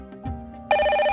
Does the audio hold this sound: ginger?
no